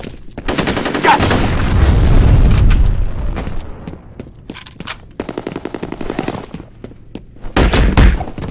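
Grenade explosion in the online shooter FEAR Combat, a loud booming blast near the start that rolls into sustained gunfire, followed by bursts of rapid automatic fire and a final heavy burst near the end.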